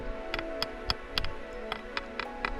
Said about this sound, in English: I'm pretty sure that's the sound of a crab.